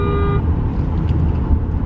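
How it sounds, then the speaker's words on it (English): A single short car horn blast in traffic, lasting under half a second, then a loud rumble of road noise and engines. "Who are we honking at?"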